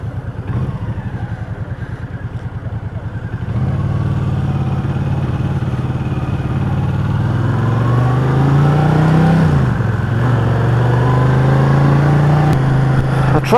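A 1984 Honda Silverwing motorcycle engine runs steadily and loud up close, its idle stepping up to a fuller, stronger drone that rises in pitch as it revs.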